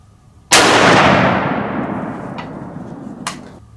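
A single loud, sharp rifle shot from a .308 Win firing a 125-grain Speer TNT load, booming close by with a long echoing decay across the range, followed by a faint metallic clink.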